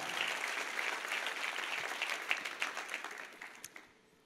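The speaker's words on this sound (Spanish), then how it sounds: "Démosle un aplauso bien fuerte al Señor, por favor" A church congregation claps loudly for the Lord during a sermon, a broad roar of applause with sharper individual claps standing out that thins and fades toward the end.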